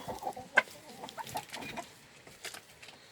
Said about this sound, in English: Look at this big rooster.